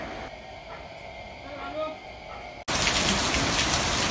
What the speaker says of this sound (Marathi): आज हे जाम पाऊस, तुम्ही बघा पाऊस कसा आहे